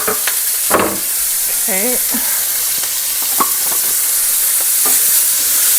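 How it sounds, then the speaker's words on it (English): Celery, onions and carrot sizzle steadily in a saute pan, a loud continuous frying hiss with occasional stirring clatter, while a voice briefly speaks over it. "to dump all of the celery and the onions and the carrot into the saute pan."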